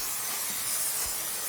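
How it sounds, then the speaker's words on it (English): A steady, close hiss of cooking spray sprayed onto chicken wings, broadband and even throughout, with no voices. "Hit them with some cooking spray."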